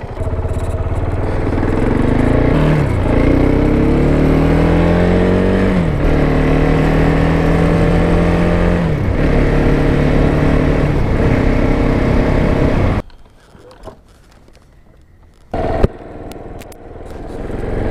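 KTM Duke 690 single-cylinder motorcycle being ridden, engine revving up through several gear changes in loud rising sweeps, then dropping to a quieter idle near the end, with no talk over it.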